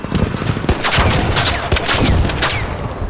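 Rapid gunfire and rocket blasts from a combat encounter in the video game ARC Raiders, a dense, loud fusillade of overlapping shots and booms with a few sharp whizzing streaks across the three seconds.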